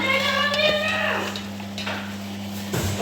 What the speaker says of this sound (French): Je mélange. Mélange. Mélange. Bien mélanger.